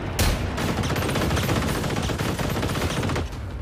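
Gunfire in the video game Generation Zero, a loud, dense continuous burst of rapid shots with a heavy boom at the start, sustained for a few seconds before cutting off.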